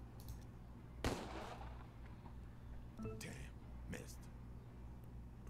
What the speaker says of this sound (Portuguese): Vamos atirar mesmo porque essa pistolinha põe bleed nele.